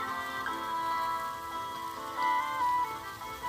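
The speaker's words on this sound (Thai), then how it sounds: "ลูกเห็บเนาะจ้า" Hail pelting a car parked outside during a hard winter storm in America, a dense steady patter of many small impacts drumming the surface, fairly close and uninterrupted, with no talking.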